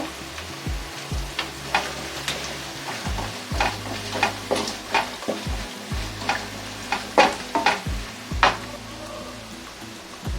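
Ground mustard and fenugreek powder with turmeric being stirred in a sizzling pan for mango rice, a spoon scraping in repeated sharp strokes over a steady frying hiss.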